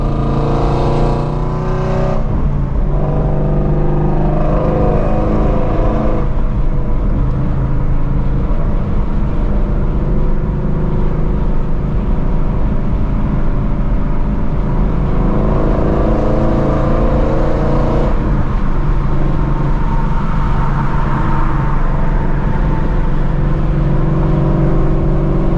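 Sports car, a Shelby GT350 Mustang or a Dodge Hellcat, heard from the driver's seat with a steady, loud engine drone and shifting rev changes running continuously, no talking.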